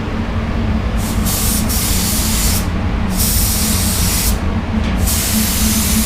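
Spray gun laying a wet coat of Standox VOC topcoat, a loud continuous airy hiss with brief dips where the trigger eases, close by and alone.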